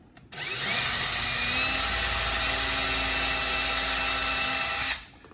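A power drill bores into a kitchen cabinet door, running as one loud, steady, high-pitched whine for about five seconds before stopping.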